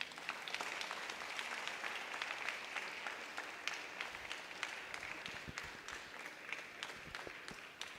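Faint, distant applause from an audience at a talk, a steady patter of many hands clapping with scattered sharper claps standing out, continuing evenly throughout.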